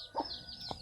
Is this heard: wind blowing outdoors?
no